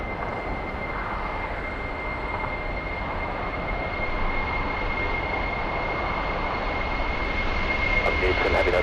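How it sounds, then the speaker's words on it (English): A 32-year-old Boeing 747 on a test flight at LAX, heard as a steady, loud jet engine roar with a sustained tone, continuous throughout, with radio voices talking over it. "This is a 32-year-old 747"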